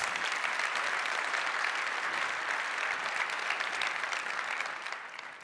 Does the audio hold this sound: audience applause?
yes